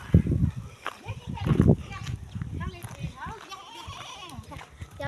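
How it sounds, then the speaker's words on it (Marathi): Village goats bleating loudly and close in several wavering calls, mixed with people talking nearby. "हे बघा, या शेळ्या, आमच्या गावातल्या शेळ्या."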